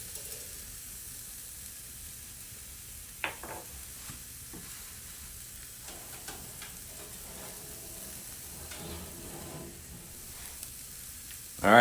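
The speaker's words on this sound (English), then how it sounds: "Can you hear it? I don't know if you can hear it. Sizzling." A quiet, steady sizzle of steak cooking on a grill in a fireplace, a continuous hiss with a few brief clicks and pops, no voices.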